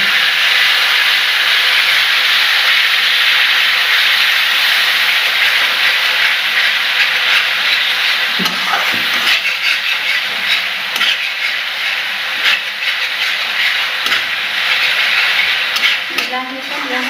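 Water poured onto hot masala in a pan for a spicy Assamese fish curry with meat masala and chilli powder, giving a loud, steady hiss and sizzle that softens slightly over time.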